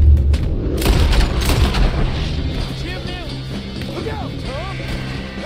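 Booming gunshots in Red Dead Redemption II, a heavy burst of loud firing early that gives way to a rumbling background as someone talks over it.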